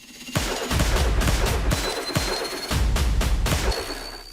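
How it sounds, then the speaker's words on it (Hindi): Bursts of gunfire during a shooting attack in Moscow, several rapid volleys of sharp cracks with short pauses between, loud and echoing. "रूस की राजधानी मॉस्को में कुछ लोग दबे पांव आए और उसके बाद गोलियां चली"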